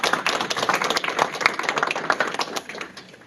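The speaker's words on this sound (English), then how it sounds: "Please join me in giving a round of applause to our panel." Scattered clapping from an audience at a psychology conference panel, a moderate patter of individual claps that thins out toward the end.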